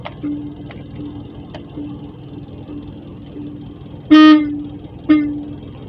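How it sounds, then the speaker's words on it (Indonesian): Two short car horn honks from a 1997 Daihatsu Espass, the first slightly longer, sounding close and loud over a quiet idling background. "ini nekan klaksonnya harus pas nah kalau nggak pas kurang kurang kencang tapi ini kencang ya normal"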